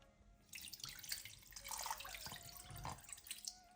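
Water runs from a tap close by, splashing and trickling into a container while measuring water for sugar syrup, fairly quiet, with no talking.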